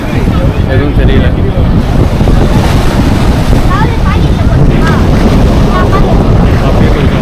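Strong wind buffets the microphone at the Dhanushkodi seashore, a constant loud roar mixed with surf and the hum of a passing boat, with speech faintly beneath.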